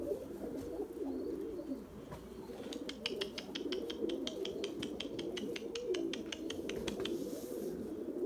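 Erzurum white pigeons coo close by in low, throaty, continuous murmurs, with a rapid train of sharp clicks or wing claps breaking in over the middle of the stretch.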